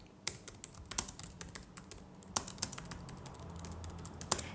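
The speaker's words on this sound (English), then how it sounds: "Let me type this." Keys on a computer keyboard clack in short irregular bursts, close and fairly quiet, with sharper louder presses standing out among soft rapid taps.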